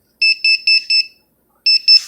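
A handheld metal detector sounds near metal in a rapid run of four sharp, high electronic beeps, goes silent for a moment, then gives two more, all clear and close with no voices.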